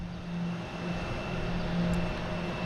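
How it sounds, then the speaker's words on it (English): An American Airlines Embraer E175 jet arriving at Boston Logan airport, heard as a steady, moderately distant engine roar with a low hum, continuous and without talk. "I've got American Airlines coming in from Columbus"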